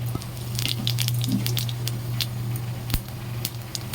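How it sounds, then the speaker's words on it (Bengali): Bay leaf and cumin sizzling in hot oil for tempering, a steady close hiss with scattered sharp crackles and pops, alone without talk. "লাউয়ের তরকারির জন্য প্রথমেই আমি তেল গরম করে নিলাম, ফোড়ন দিয়ে দিয়েছি, তেজপাতা আর জিরে"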